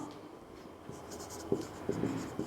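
Chalk or marker writes on a classroom board in short scratchy strokes with a few firm taps, close and steady over a soft room hum.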